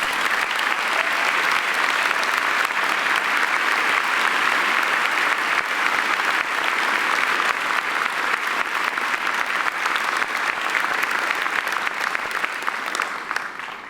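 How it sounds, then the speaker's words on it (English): A large commencement crowd at a business school graduation ceremony claps loudly and continuously, a thick, even roar of applause that holds steady and only slightly eases at the very end. "So if you join me in a round of thanks and applause for Norianne."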